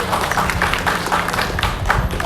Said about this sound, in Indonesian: Sekali lagi Bapak Ibu kita berikan tepuk tangan.